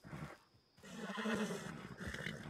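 A horse whinnies and snorts in Red Dead Redemption 2, a loud close neigh breaking off briefly before a longer, breathy whinny with soft hoof and tack sounds, no talk over it.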